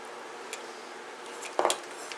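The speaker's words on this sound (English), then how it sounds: "Stir this up a little bit." A spoon stirs a pot of water with Worcestershire sauce for Italian beef, giving soft scraping with a few brief clinks against the pot near the end.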